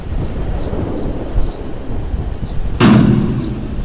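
Storm effect in an audio drama about a lighthouse keeper: steady low rumbling wind-like roar, then a sudden loud crack or thunderclap burst near the end that lingers as a heavy rumble.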